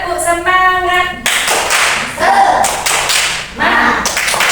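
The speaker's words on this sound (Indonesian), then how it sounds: "Oke, sedia tepuk. Siap. Tepuk semangat." A primary-school class does a 'tepuk semangat' clap chant, a rhythmic run of close group hand claps and taps mixed with children's chanting voices, after a brief sung or tonal lead-in.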